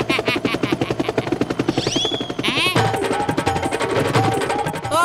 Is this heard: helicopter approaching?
yes